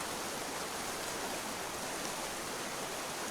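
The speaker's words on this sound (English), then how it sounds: "even that sound of waterfalls are making me want to go to the toilet" Steady, dense rushing of a waterfall in a military tactical shooter game by a river, constant broadband noise filling the whole stretch with no breaks, fairly faint and alone.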